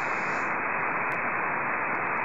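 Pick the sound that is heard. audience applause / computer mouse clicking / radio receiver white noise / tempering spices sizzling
radio receiver white noise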